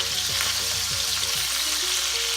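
Meatballs fry in hot oil in a pan over a medium-high flame, giving a steady, loud sizzle, with a few soft scraping clicks as they are slowly turned over. No one speaks.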